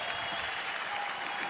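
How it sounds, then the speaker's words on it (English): Steady crowd applause filling a boxing arena as the heavyweight champion of the world is presented, a continuous even wash of clapping throughout. "So please give him a round of applause as our heavyweight champion of the world."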